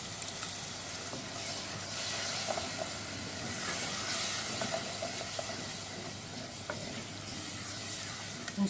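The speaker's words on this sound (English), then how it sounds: "Now I'm going to add the tomatoes, so it'll sizzle slightly." Tomatoes hit a chickpea curry base frying in the pan, giving a steady, close hiss of sizzling oil and steam with faint stirring clinks and no talking.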